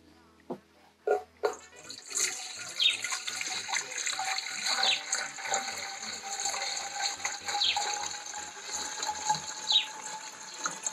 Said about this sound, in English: here my pump is graduated, so I'm going to put 1 liter of rabbit urine.